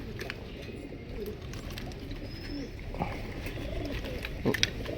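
High flyer pigeons cooing softly in a loft, low murmuring coos with a few brief chirps against steady background noise and no talking.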